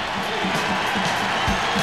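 Sold-out Breslin Center basketball crowd giving a standing ovation, a dense, steady roar of cheering and clapping that fills the arena at close range without letting up.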